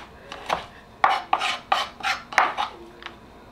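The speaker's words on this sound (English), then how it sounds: "I'm just gonna finish cutting the rest of this up" A knife chops fresh parsley on a cutting board in a handful of quick, close strokes with short pauses between them, crisp and fairly loud, no voices.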